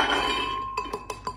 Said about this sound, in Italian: E dopo aver sbucciato le mandorle, le metto in un frullatore.